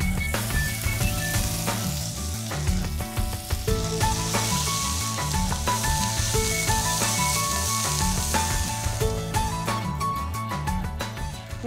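Onions and capsicum fry in a pan with a bright, continuous sizzle, punctuated by occasional stirring clinks and scrapes, close and steady, ending with a rapid series of sharp ticks.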